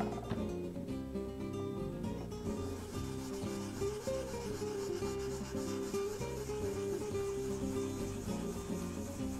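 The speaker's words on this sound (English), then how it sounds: "So I'll wet sand again, concentrating on these spots." Steady, continuous rubbing and scraping of wet sanding across a lacquered wooden surface, close up, with a layered hum of background sound throughout.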